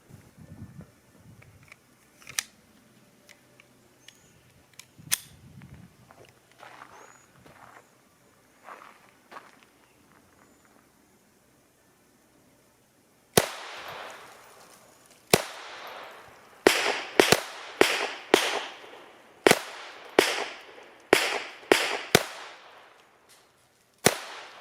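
Taurus TX22 .22 pistol firing cheap bulk ammunition: a quiet stretch of soft handling noises and footsteps, then about a dozen sharp, loud cracks in an uneven rapid sequence, close by.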